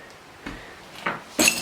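Broken glass in an abandoned kitchen in Elkmont, an abandoned town in the Smoky Mountains, gives three separate crunches and clinks, the last the sharpest and brightest, with quiet gaps between them.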